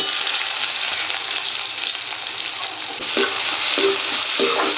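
Onions frying in a pan give a loud, continuous close sizzle, with a few dull knocks and scrapes of stirring toward the end.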